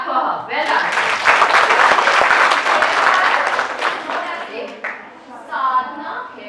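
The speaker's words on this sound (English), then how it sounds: "But we can at least clap for her." Audience in a classroom or lecture hall bursts into applause for a woman, a dense wash of many clapping hands that swells, holds for several seconds, then tapers off with murmuring voices.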